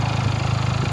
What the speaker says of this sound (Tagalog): yan ang tunog ng isang 302S mula sa Binelli